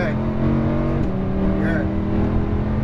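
A Lamborghini Huracan LP610-4 engine pulls hard on a race track, a loud steady roar climbing in pitch with a brief break near the middle for an upshift, while an instructor talks over it.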